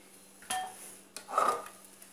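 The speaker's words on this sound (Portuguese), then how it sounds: "Vou estar usando aqui o auxílio da espátula para poder estar aproveitando todo o recheio da panela." A spatula scrapes brigadeiro filling from a pan in two short, quiet scrapes, the second longer and more rasping, with no talking.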